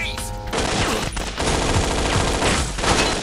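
Rapid gunfire in the video game Infernal: a dense, loud burst of overlapping shots rattles almost without pause for a few seconds, close and harsh.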